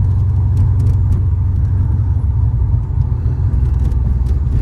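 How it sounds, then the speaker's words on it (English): A 426 Hemi V8 in a Challenger rumbles while driving, warmed up after a hot start, a loud, heavy low-pitched engine drone with road noise and faint ticking on top, steady and close with no voices. "as soon as the engine got at all warmed up, it was not starting well, but it starts well now"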